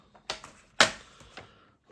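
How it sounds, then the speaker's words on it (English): A sheet of Whisper White cardstock is cut with a few sharp, close snips, one louder crisp cut standing out among lighter clicks, with no talking. "I'm going to cut this down"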